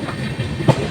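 Inside a moving train carriage, a steady low rumble of wheels on rails runs throughout, with a brief louder knock or clack near the end.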